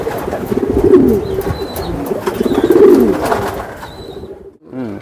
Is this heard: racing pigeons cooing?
yes